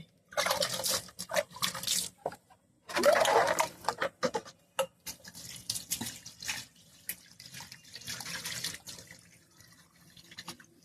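Small fish are rubbed with salt and washed under water, giving irregular splashing and sloshing bursts with dripping between them, close and moderately loud with no talking.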